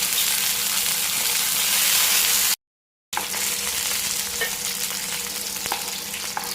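Banana pieces and raisins frying in a pan, with a steady bright sizzle and occasional stirring, loud and close with one short gap of silence.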